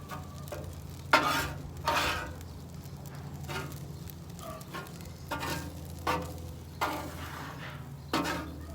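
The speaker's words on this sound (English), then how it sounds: "we're going to move the rice to the side right now" Hawaiian fried rice is pushed and stirred across a sizzling pan, a spatula scraping in about eight distinct strokes over a constant close frying hiss, with no talking.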